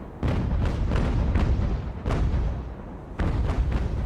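Heavy cannon broadsides from sailing warships in the naval game Ultimate Admiral: Age of Sail, booming in rolling clusters of deep, loud shots with short pauses between volleys.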